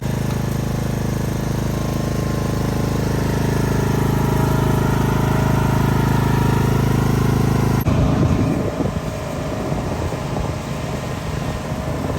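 A 1986 Ford F150 engine runs steadily at close range while the truck rolls on a bare wheel after a flat tire, a loud constant drone that shifts to a rougher, rattling tone near the end.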